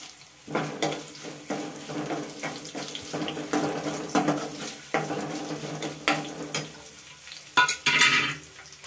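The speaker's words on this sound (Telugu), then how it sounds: "ఎండుమిర్చి వేసుకుందాం." Dried red chillies fry in oil for a drumstick-leaf dal, giving a crackling hiss with irregular pops and spatters close up.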